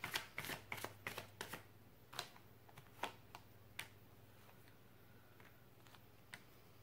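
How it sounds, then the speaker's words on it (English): Tarot cards being shuffled and drawn, a burst of quick papery riffles and flicks at the start followed by scattered single card snaps and slides, quiet and close, with a faint steady low hum underneath and no talking. "Let's get a few cards here for the advice for Sagittarius Spirit."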